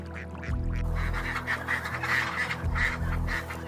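Ducks on an egg duck farm quack repeatedly in a steady, dense chorus, close and fairly loud, with a low continuous hum running underneath.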